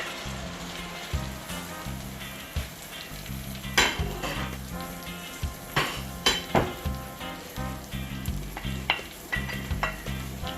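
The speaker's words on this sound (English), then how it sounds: "after sauteing our natural season, it's time to add our ackee" Ackee tipped into a pan of sautéed seasonings and stirred, producing a continuous sizzle with repeated spoon clinks and scrapes against the pan, busier toward the end.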